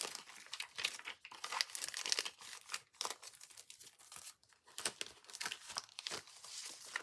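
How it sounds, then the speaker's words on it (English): Stickers pulled out of their plastic packaging by hand, with close, fairly quiet crinkling and tearing in irregular bursts and short pauses. "Let's get this out of its packaging"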